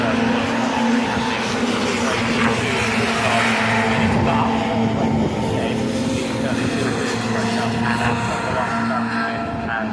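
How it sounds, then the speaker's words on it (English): Race cars at the Brands Hatch Mini festival roar past in a continuous loud blend of engine noise, with several cars overlapping and a commentator talking throughout. "This is the car of number 84, Ryan Taylor, who just got the job done a few laps ago"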